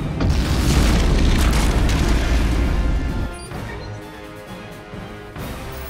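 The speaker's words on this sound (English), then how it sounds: "Photon torpedoes ready." A loud, heavy photon torpedo explosion in the Star Trek Legacy video game booms for about three seconds, then fades into a lower rumbling tail with a fainter second swell near the end.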